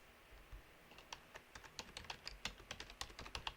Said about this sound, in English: So I'm just typing in keywords